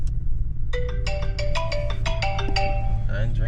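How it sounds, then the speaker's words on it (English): A phone ringtone plays a melody of stepped electronic tones for about two seconds, fairly loud over a steady low rumble, with a voice nearby. "Phone's ringing."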